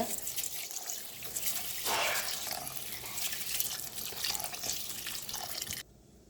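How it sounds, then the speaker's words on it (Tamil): Running water from a tap splashes continuously while rice is washed by hand for prawn fried rice, a steady close splashing wash that cuts off abruptly near the end. "இந்த அரிசி வந்து நல்லா கழுவி எடுக்கணும்"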